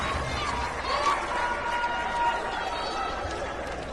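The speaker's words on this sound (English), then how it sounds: "And a big hand from the Bartlett crowd as the Indians come out." Bartlett crowd at a high school basketball semifinal giving a big hand as the Indians come out, a steady roar of applause and crowd noise filling the gym, with announcer talk over it.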